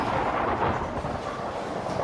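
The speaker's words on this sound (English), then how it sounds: "That creates a sound wave known as thunder." Thunder from a storm rolls as a steady, dense rumble that stays loud and unbroken for about two seconds, with no voices present.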